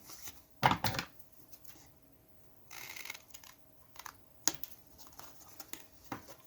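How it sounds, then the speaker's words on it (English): Scissors snip the corners off paper tags: a few short, crisp cuts spaced out, with light rustling and handling noises between them. "I'll just use that as a guide to cut the other corners."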